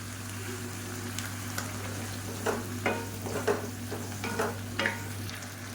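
Chopped tomatoes with salt cook for a tomato chutney, giving a soft, steady sizzle over a constant low hum, broken by several short scraping stir strokes in the second half.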